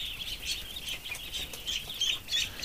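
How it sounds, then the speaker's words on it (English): A duck calls in a hatching setup among duck and goose eggs, giving repeated high, thin peeping cries in quick irregular bursts, close and fairly loud over a faint background hum. "There's that confused duck,"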